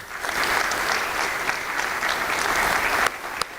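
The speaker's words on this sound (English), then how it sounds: "let's thank them and give them a round of applause" An audience at a distinguished lecture event gives a steady, full round of applause to the regents, a continuous wash of many hands clapping with a few sharper claps near the end.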